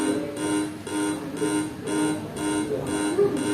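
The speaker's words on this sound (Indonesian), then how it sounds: "Bunyi alarmnya ya" A quiz timer alarm rings as time runs out, a repeating electronic beeping in even pulses about twice a second, steady and fairly loud with no talk over it.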